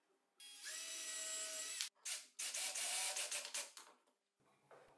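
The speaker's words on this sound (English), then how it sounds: "I screw the new plywood piece back to the fence." A power drill drives screws through a plywood piece into a table saw rip fence, with a whining spin-up, brief stops, then several short bursts of driving before it quiets.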